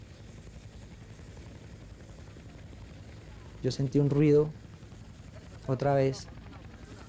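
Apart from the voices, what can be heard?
rescue helicopter hovering over a house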